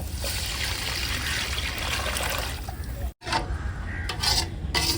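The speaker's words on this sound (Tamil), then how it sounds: "புளி தண்ணி ஊற்ற போகிறாங்க மசாலா தண்ணி ஸோ நான் ஊற்றிக்கிறேன்" Tamarind masala water is poured into a pot of fish curry, giving a steady rushing trickle and a brief cut-off before the flow resumes with faint clinks from the cookware.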